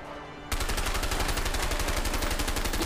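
Rapid automatic gunfire in the video game A Way Out, bursting in loud and close after a brief quiet moment and then rattling on without pause.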